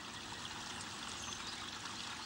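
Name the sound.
trickling garden water feature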